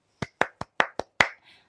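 Six sharp claps in an irregular rhythm, close and dry, stand alone with no voices, followed by a faint tail, after an MC's call at an Indonesian MC training session.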